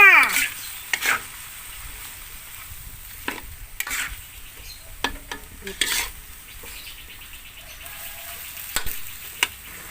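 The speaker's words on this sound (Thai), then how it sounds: "ใส่น้ำค่ะ เท่านี้ก่อนนะคะ แล้วก็ผัดค่ะ" Red curry paste being stir-fried with fish balls and a splash of water in a pan, with repeated sharp scraping strokes of a spatula over a soft sizzle, close up.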